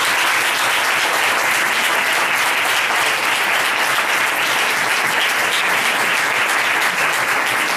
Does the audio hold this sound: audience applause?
yes